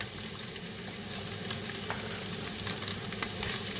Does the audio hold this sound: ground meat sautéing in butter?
yes